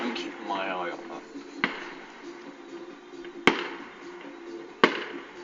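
Fireworks go off around a residential road during a fireworks display, three sharp, separate bangs at uneven intervals, one faint and two loud, heard under people talking.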